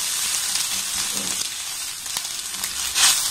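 Egg and mixed vegetables fry together in a pan, giving a loud, constant close-up sizzle and hiss with occasional stirring scrapes and a brief louder flare near the end.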